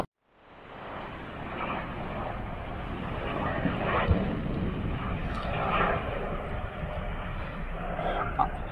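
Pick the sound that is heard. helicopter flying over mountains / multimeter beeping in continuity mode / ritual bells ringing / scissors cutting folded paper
helicopter flying over mountains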